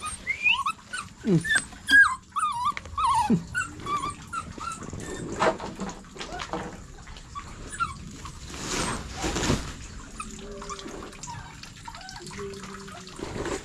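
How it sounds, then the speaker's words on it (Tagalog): A dog whimpers and makes soft whining sounds with a few short barks, against a background of trickling, dripping water. "may bantay pa rin, oh, aso"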